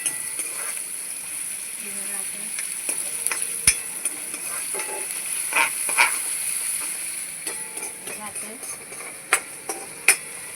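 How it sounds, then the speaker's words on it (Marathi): Onions frying in a pan for a prawn curry, a steady close sizzle and hiss with occasional scrapes and clinks of a stirring utensil, and a voice speaking faintly at times. "कांदा लाल करून घ्यायचा कांदा लाल होते"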